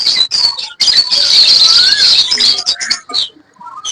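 Parrots and lovebirds, including ringnecks and sun conures, chirp at a bird market in Islamabad, with dense shrill tweets and squawks packed close together, nearly continuous with brief gaps.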